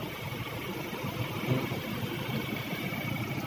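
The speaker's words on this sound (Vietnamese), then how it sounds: "động cơ mới này thì có thể nói rất là êm, rất là êm" A 2019 Ford Ranger BiTurbo diesel engine idles with a smooth, steady low rumble, even and continuous, heard close without any talking.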